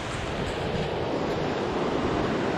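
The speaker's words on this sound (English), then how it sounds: "I'm down by the Kern River, which is at full height," The Kern River runs at full height with raging rapids, a loud, steady roar of rushing whitewater filling the whole clip with no pauses.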